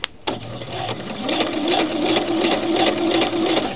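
A sewing machine stitches fabric around a curve, its motor whirring in a steady, rapid needle rhythm after a brief click at the start, close and continuous.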